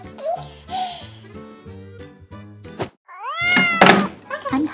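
A cat meows several times, close by and clear, with drawn-out rising and falling cries bunched near the end, while a voice babbles and talks around it.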